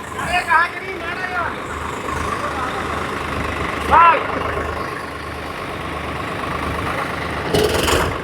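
A Swaraj 855 tractor engine rumbles low and steady throughout, running under continuous nearby talk.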